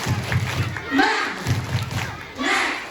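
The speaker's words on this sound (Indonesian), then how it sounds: "Tepuk semangat." A Maulid religious gathering claps in unison, giving rhythmic thuds roughly every half second under crowd voices and a speaker's voice.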